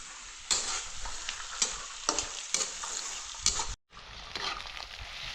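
Vegetables and green chickpeas being sautéed in a hot pan, a steady close sizzle with repeated louder scrapes of the stirring spoon, briefly cutting out near the end, no talking.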